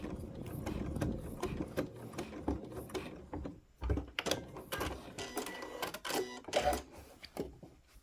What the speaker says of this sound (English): Do a couple of stitches past that corner. And do a locking stitch.